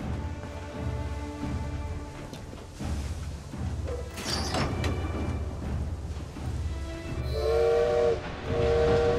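A steam train in the video game Assassin's Creed Syndicate rumbles and clatters along the rails, then near the end sounds a loud, sustained whistle in two blasts, with no talking.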